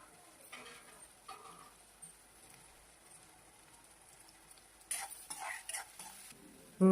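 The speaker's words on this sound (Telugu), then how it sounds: "వేడే నూనె బాగా వేడయ్యింది అందులో ఉల్లిపాయ పచ్చిమిరపకాయ వేసి బాగా వే కలుపుకోవాలి" Chopped onion and green chillies fry in hot oil: a faint, steady sizzle with soft stirring that grows louder near the end, where spoon and pan clatter in short bursts.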